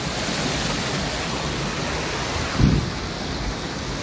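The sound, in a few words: river water rushing from released canal water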